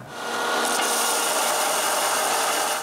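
A wooden drum for a musical nutcracker spins on a lathe while a tool cuts it, producing a steady close rasping whir that holds at even loudness from start to end, with no talking.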